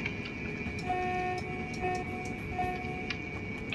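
Caltrain commuter train in the rail simulation Train Sim World, a steady rumbling run with clicking rail joints, brief tonal squeals or horn-like notes and faint ticking over a continuous background.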